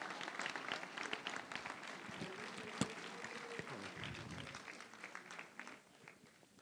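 At a town hall New Year's wishes gathering, the audience applauds the mayor with a fairly faint, crowded patter of clapping that gradually thins toward the end.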